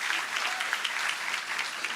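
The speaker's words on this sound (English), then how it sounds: "Let's give them another round of applause." Audience applauds at a ribbon cutting ceremony for a student-athlete performance center, a dense, even crowd clapping sustained throughout without pause.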